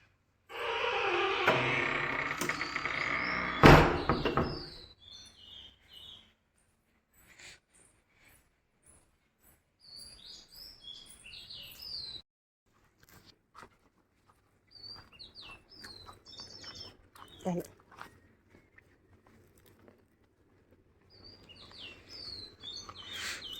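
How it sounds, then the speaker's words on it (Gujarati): Birds chirp and tweet outdoors in the morning, short bright calls scattered through quiet gaps, with a louder jumbled burst of activity at the start and intermittent clusters of chirps afterward. "પંખી અત્યારમાં મસ્ત બોલતા હોય."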